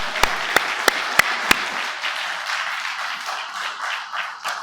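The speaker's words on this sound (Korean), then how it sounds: "하나님께 영광의 박수 올려드리겠습니다." A church congregation at a Christmas service breaks into applause after the sermon's call: a few sharp, loud near claps open it, then dense crowd clapping continues steadily and fills the room.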